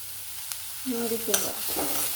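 Chopped cabbage dropped into a hot pan for frying, a soft sizzle and a few scraping stirs, close and quiet over a steady hiss.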